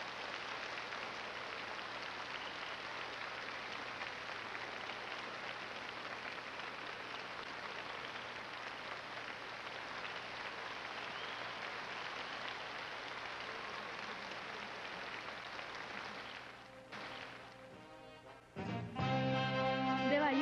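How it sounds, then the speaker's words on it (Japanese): An audience at the 1982 World Professional Latin Dance Championships final in Tokyo gives long, steady applause for the winners, a faint, even wash of distant clapping that drops away near the end before a short louder burst. "どうぞもう一度優勝者、そしてまた上位入賞者に大きな拍手をお送りください。"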